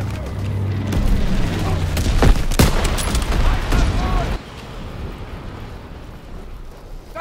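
A bomber drops incendiary bombs in a Call of Duty game, setting off a dense roll of booms and explosive rumble that runs loud and sustained for several seconds, then fades into a quieter rumbling background.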